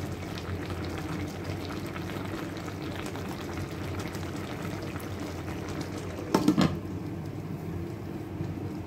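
Laing soup bubbles steadily in a pot, a soft, continuous simmer close by, with a brief clatter partway through.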